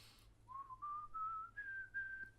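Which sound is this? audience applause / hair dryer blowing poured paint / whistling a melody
whistling a melody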